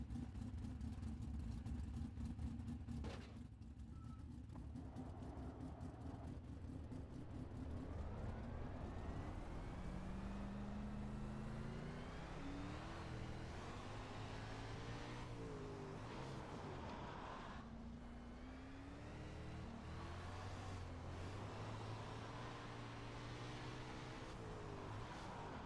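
A sprint car engine in the iRacing simulator, a continuous whining drone that rises and falls with revs as the car accelerates and slows, heard alone for a long stretch.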